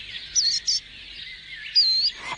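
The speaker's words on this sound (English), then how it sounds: "Every mild morning now the birds are singing, and they continue more or less throughout the day." Small songbirds chirp and twitter in a garden on a mild January morning: a few short, bright, high calls, then a longer warbled phrase, close and clear with no voices.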